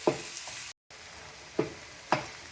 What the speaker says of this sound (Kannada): ಇವಾಗ ಇದನ್ನ ಚೆನ್ನಾಗಿ ಮಿಕ್ಸ್ ಮಾಡಿಕೊಂಡು ಇದು ಸಾಫ್ಟ್ ಆಗೋ ತನಕ ನಾವು ಬೇಯಿಸಬೇಕು.